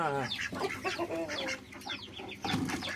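Several chickens cluck and squawk nearby in quick, overlapping calls, busy and continuous.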